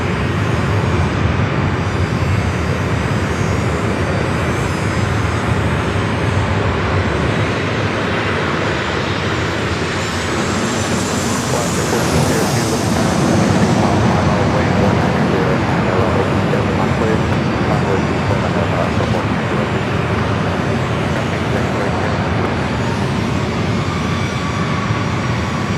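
An airliner bound for Portland runs its engines at San Diego airport in strong wind, a continuous loud broadband roar with a rising whine partway through, and voices talk over it.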